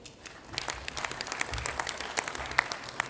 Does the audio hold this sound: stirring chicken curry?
no